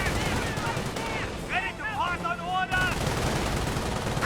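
Luftwaffe ground forces fire in the Company of Heroes video game, a steady clatter of battlefield gunfire and bursts beneath a brief tonal in-game sound, loud and continuous.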